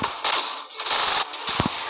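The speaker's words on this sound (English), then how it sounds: "This gun is running out of ammo so fast." Rapid automatic gunfire bursts in the video game Earth Protect Squad, three loud rattling volleys separated by short pauses, close and dominant with no talk.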